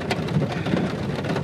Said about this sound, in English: There's the thunder still rolling.